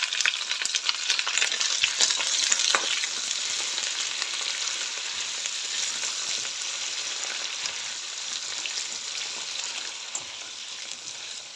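A seafood mix fries in a pan with a loud, steady sizzle that stays strong and continuous throughout, with occasional crackles and stirring.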